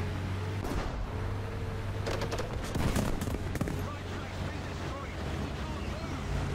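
Gunfire in the vehicle combat video game Charioteer comes as a short burst of loud rapid shots over steady wind-like rumble and engine hum, with speech briefly nearby.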